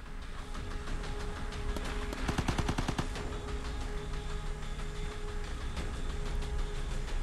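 Assault rifle in the Vigor video game firing a rapid burst of automatic shots, sharp and close, over a steady background drone with no talk.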